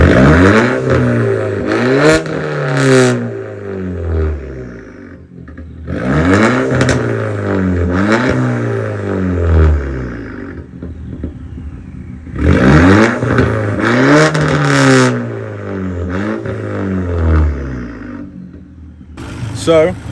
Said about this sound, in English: as you guys can hear, the car started the first time